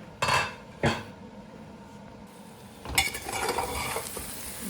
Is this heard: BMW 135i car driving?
no